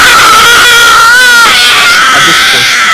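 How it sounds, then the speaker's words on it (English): A loud, ear-piercing, sustained scream blasts from the speakers in a creepypasta tale about a My Little Pony SNES game, shrill and distorted, with a wavering pitch that holds for about three seconds. "a loud, ear-piercing scream suddenly came across the speakers"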